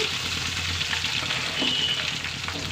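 Green chillies and onions frying in hot oil in a pan for a bottle gourd curry, a loud, continuous close sizzle with a steady crackle and no talking.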